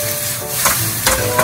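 Pork sizzles while it is stir-fried in a pan for a spicy miso rice bowl, a loud steady crackle broken by a few sharp scrapes and tosses.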